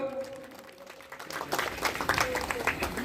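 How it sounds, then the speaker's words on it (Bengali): An audience at a short-deuce cricket tournament ceremony in Agarpara breaks into moderate applause partway through, a scattered clapping that swells over murmuring background voices. "একটু জোরে হাততালি হোক"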